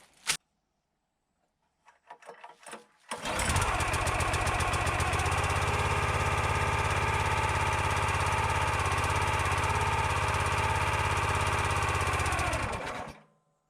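A Tractor Supply log splitter's small engine starts after a few brief sputters in cold weather, then settles into a loud, steady idle as it warms up, running alone without talk until it cuts off at the end.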